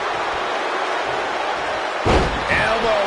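A wrestler's elbow drop in WWE 2K20 lands as a single heavy slam about two seconds in. A constant roaring arena crowd fills the background before and after the impact.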